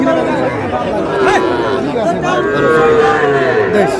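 Sahiwal bull calves low and moo repeatedly at a livestock market in Comilla, Bangladesh, amid a busy crowd of chattering voices, with people talking close by throughout.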